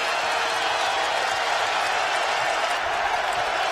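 A basketball arena crowd at a UConn men's game against Temple roars steadily, a loud, even wash of cheering and clapping with no breaks.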